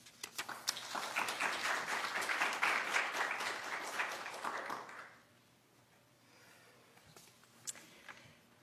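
A library lecture audience applauds to welcome a speaker on archiving the 2014 Ebola outbreak. Warm, dense clapping lasts about five seconds and then fades into quiet room tone with a few stray sounds.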